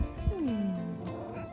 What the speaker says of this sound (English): It's a little Italian kitty.